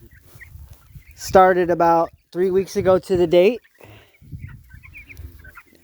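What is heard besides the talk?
meat chickens clucking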